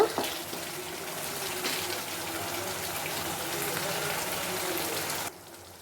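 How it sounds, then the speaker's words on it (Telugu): Chicken fries loudly in hot oil with a dense, steady sizzle, then the sizzle drops away abruptly near the end. "చూడండి, ఆయిల్ పైకి వచ్చేసింది, బాగా వేగుతూ ఉంది అని అర్థము"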